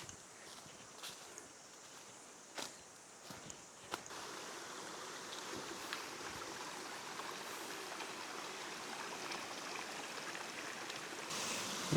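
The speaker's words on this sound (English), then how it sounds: "Here's the section of the track that's become its own little stream, complete with waterfalls." Water running down a hiking track on Knights Track in New Zealand's Ruahine Ranges, forming a small stream with little waterfalls; a steady, soft, close rushing trickle with a few faint footstep-like knocks early on.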